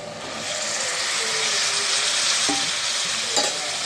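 Ridge gourd pieces frying in a pan with a loud, continuous sizzle, close up, broken by a few spoon-against-pan knocks and scrapes as they are stirred; no one speaks.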